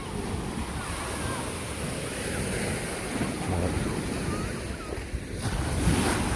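Sea waves wash along the English Channel coast on a warm day, a steady broad surf roar mixed with wind buffeting the microphone, continuous and fairly loud with no one speaking.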